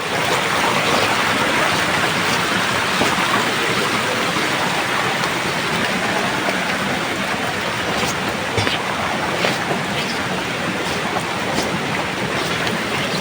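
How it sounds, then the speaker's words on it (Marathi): Heavy monsoon rain in a Konkan village near Khed pours down as a dense, steady broadband hiss that fills the whole stretch without pause, and no one speaks. "लय पाऊस पडतोय"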